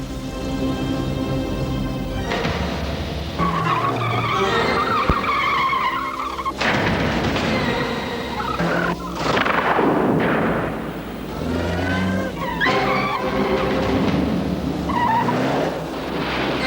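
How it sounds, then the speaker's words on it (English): Stunt driver pushing a car on Continental tyres under test conditions, repeated loud tyre squeals and skids with revving engine surges, interrupted by sharp impact-like bangs, close and intense. "Under test conditions, a stunt driver puts Continental Tyres through their paces."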